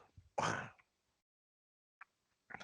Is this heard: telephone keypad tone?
no